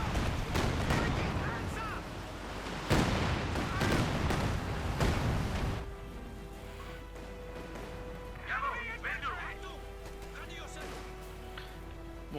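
MG34 machine gun fire and other battle sounds from Company of Heroes 2 come as loud bursts of gunfire and booms, heaviest in the first six seconds. Quieter scattered shots follow under the steady game backdrop.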